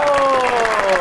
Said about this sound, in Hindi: आपकी बहुत सी तालियों में जनाब अजमल चीमा।